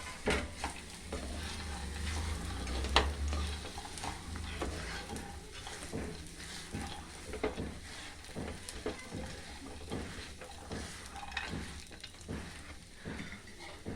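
Roasted almonds, cashews and pistachios being stirred into a hot date mixture in a pan for sugar-free khajoor burfi, with a soft continuous sizzle broken by repeated scraping strokes of the spoon at a close, even pace.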